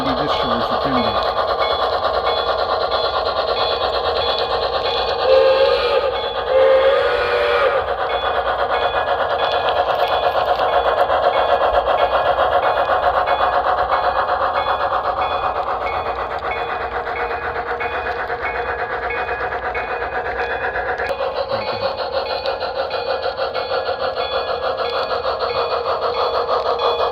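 Erie Camelback steam locomotive model running on a layout, a steady mechanical whir and rumble with rail clatter throughout, with faint intermittent whistle-like tones.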